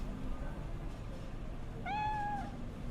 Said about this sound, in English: Oh, kitty, kitty.